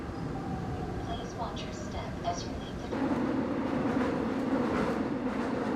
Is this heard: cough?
no